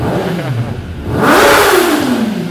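A 2021 Kawasaki ZX-10R sport motorcycle fitted with an Arrow exhaust revs hard, its engine note climbing steeply and staying loud and close throughout.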